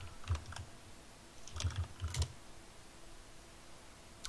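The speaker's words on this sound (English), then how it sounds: "your keyboard's just as loud as mine is" Faint clicks from a computer keyboard come in two short bursts of typing, separated by quiet pauses, with no talk over them.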